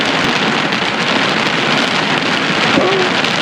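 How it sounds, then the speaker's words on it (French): Heavy rain drums steadily on a car roof during a thunderstorm, a loud, dense, continuous hiss and patter heard from inside the vehicle, with a low rumble beneath. "J'ai la phobie des orages, j'en ai un juste au-dessus de ma tête"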